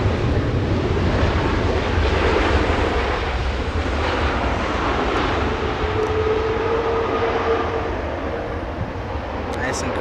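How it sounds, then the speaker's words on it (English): A Boeing 787 Dreamliner airliner at Los Angeles International Airport produces a loud, continuous engine roar with a faint rising whine near the end, while voices talk quietly underneath. "Nice and quiet Dreamliner on the pond."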